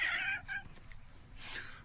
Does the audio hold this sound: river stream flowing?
no